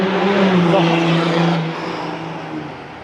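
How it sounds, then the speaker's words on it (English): A car with a loud engine passes on a city street, its roar swelling near and then fading away over a few seconds with a steady traffic-like hum behind. "oh my god, he's got a loud engine."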